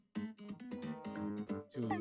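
A small cat meows several times in quick succession, close and fairly loud, with a longer drawn-out meow at the end and no talking.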